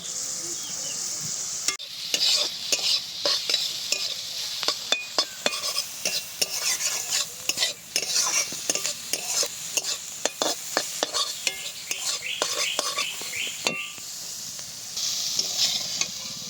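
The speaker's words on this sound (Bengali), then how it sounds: "ভালো করে ভাজা ভাজা করে নিতে হবে।" Boiled cabbage is stirred and fried in a pan until dry, for a Bengali cabbage bata. A steady sizzle runs under repeated scraping strokes of a spatula against the pan, close and fairly loud, with no talking.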